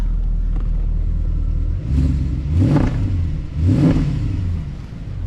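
A 2008 Mercedes-Benz ML63 AMG SUV idling with a deep, even rumble, then two sharp engine revs that climb and fall back, close and loud, with no talk over them.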